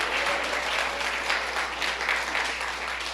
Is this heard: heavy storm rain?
no